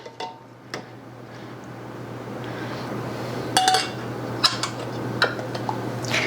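Metal canning lids and rings clink and scrape as they are handled and twisted finger tight onto jars of pork stock, scattered light taps and clinks close by over a faint steady hum.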